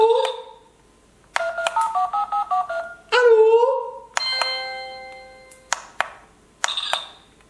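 A toy telephone plays a string of electronic beeps, chiming tones and dialing melodies in short bursts, bright and close, with a few distinct ringing patterns separated by brief pauses.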